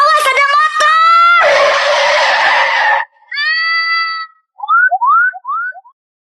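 A motorcycle rushes in and skids, heard as loud cartoonish sound effects: a sharp screeching skid, a rough whooshing burst, then whistling squeals tapering off into silence.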